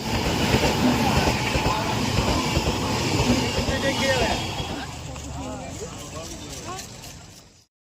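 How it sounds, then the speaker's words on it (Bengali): A train rumbles loudly nearby at Bally station with steady rolling noise that fades toward the end, while people talk over it. "এসছে ট্রেন গাড়ি দেখতে বালি স্টেশনে"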